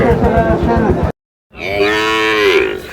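Sahiwal cattle, bulls at a farm in Sylhet, low loudly and close by: one long, deep moo, a brief silence, then a second drawn-out call rising in pitch.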